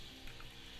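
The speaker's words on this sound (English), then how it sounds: "You can hear the sizzling sound." Minced garlic and ginger sizzle in hot oil for stir-fried noodles, a brief, dense, steady crackle of frying with no voices.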